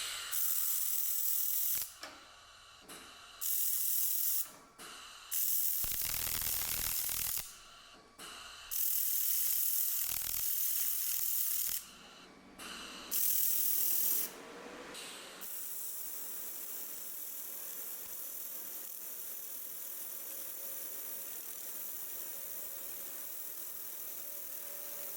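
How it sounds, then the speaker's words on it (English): An xTool MetalFab laser welder makes a weld on metal in several loud buzzing bursts, each lasting a second or two with short gaps between them. A quieter steady hum follows. "Let me try and make a bad weld and fix it."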